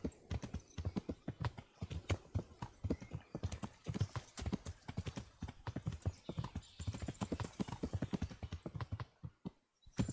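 A horse gallops in the video game Kingdom Come: Deliverance, its hooves clip-clopping in a rapid, steady rhythm, close and loud, almost without pause.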